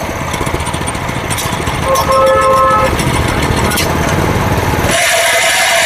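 Chain cultivator engine running loud and close while a gear is shifted, a steady mechanical drone that changes abruptly near the end as the gear engages.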